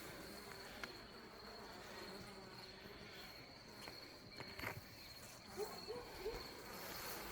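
A steady, dense buzz of honeybees inside a hive hums throughout, with a few brief louder passes and faint clicks near the end.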